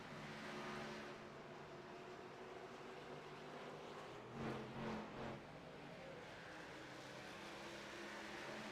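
Race cars lapping New Hampshire's flat oval in a racing video game, a faint steady engine whine with a couple of brief louder passes midway, distant-sounding and without talk.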